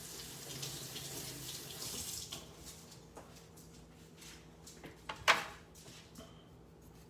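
A kitchen tap runs while a lime is rinsed under it, a soft continuous splash that is faint and close, with a small clatter partway through.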